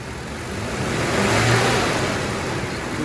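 A 2nd-gen Toyota Tacoma engine with a Volant intake holds a steady mid-range rev, a continuous close droning growl that swells slightly and then eases.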